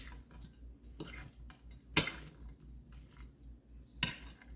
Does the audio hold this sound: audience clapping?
no